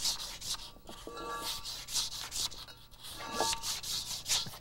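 Abrasive roughening of a brake component's surface on a Rolls Royce Silver Cloud II during brake rebuild assembly: short repeated scraping rubs in bursts, close and moderately loud, with no talk.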